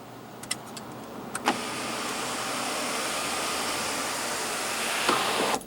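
Electric sunroof motor on a 2016 Mercedes-Benz GLE Class SUV runs as a steady, even whir for about four seconds inside the cabin, with a couple of soft clicks from the controls before it starts and a thunk as it stops.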